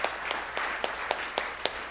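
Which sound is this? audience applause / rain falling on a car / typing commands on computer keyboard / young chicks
audience applause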